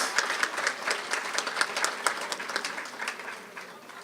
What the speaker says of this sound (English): Give her a special round of applause.